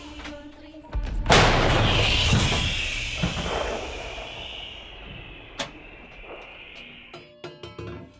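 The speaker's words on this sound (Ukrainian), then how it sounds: "Це гармата 2С1 Гвоздика." A 2S1 Gvozdika 122 mm self-propelled howitzer fires once, a loud close blast followed by a long rumbling decay, with a few sharp clanks and knocks trailing after.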